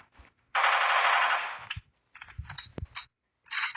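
Rapid automatic gunfire from the blocky shooter Block City Wars, a loud sustained burst for over a second followed by several shorter clipped bursts and single shots separated by silence.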